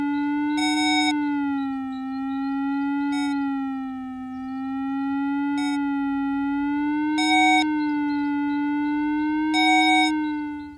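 A Deus 2 metal detector sweeps over a buried long metal bar, giving a steady, wavering electronic tone with rich overtones and periodic short higher beeps repeating about every two to three seconds, clear and alone.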